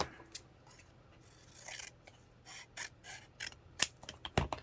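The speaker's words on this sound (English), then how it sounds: "so trim this down just a little bit." Scissors trim card paper for a handmade stamped card: a series of quiet, crisp snips at uneven intervals, with a few sharper cuts near the end and no talking.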